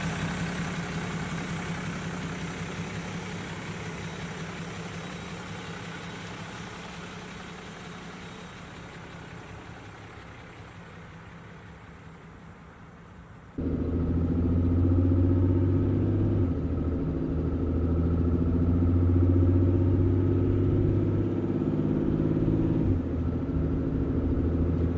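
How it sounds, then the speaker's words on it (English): Cummins diesel truck engine idling with a steady low rumble, then growing suddenly louder and deeper midway as the exhaust brake and tow haul mode engage, holding a heavy droning roar to the end. "Alright guys, so the truck is running great."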